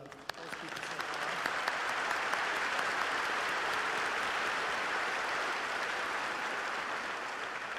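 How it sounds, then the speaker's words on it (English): Steady applause from a large crowd at a high school graduation ceremony in an arena, swelling within the first second and then holding as an even wash of clapping. "let's give a round of applause to those people so far."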